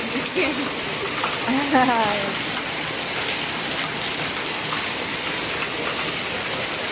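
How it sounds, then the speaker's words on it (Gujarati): Steady heavy rain hisses throughout, broad and continuous, with a brief voice near the start. "અત્યારે અમારા ફૂલ વરસાદ આવે એકદમ."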